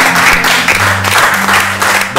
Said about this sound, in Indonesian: Wah, luar biasa, tepuk tangan dulu